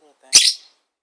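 A baby parrot gives a single bright, high chirp lasting about a quarter second, close and clear, with a faint murmur just before it.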